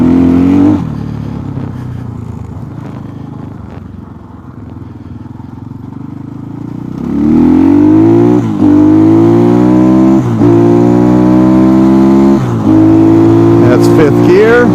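Templar M Chinese motorcycle engine run hard toward top speed, a loud droning whine that rises through gear changes into fifth at around 8,000 RPM, with wind buffeting and someone talking over it.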